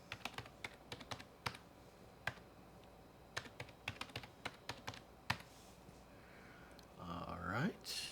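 A password is typed on a computer keyboard, close and fairly quiet: a scattered series of distinct key clicks in an uneven rhythm, followed by a brief rustle.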